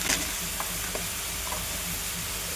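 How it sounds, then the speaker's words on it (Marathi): Chopped onion sautés in a pan with salt, chutney, garam masala and a pinch of turmeric, giving a steady, close sizzle with a few faint stirring clicks and no voices. "कांदा परतून घ्यायचा।"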